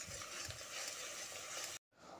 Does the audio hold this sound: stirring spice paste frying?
yes